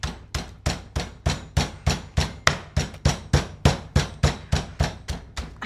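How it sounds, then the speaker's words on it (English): Chicken breast being pounded flat for katsu with a heavy mallet or hammer: about sixteen loud, evenly spaced thuds at a steady brisk rhythm, close up and alone with no talk. "my least favorite part of doing something like a katsu chicken or a chicken schnitzel is the banging"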